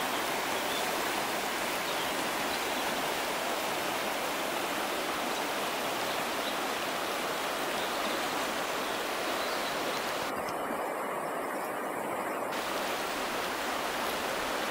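River Ayr flowing at the site of an old cart ford by a flat riverside haugh, a steady, even rush of water filling the scene without pause or voices.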